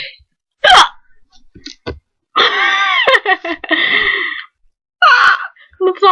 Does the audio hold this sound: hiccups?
yes